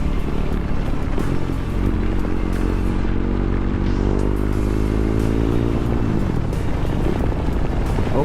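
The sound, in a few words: superbike motorcycle riding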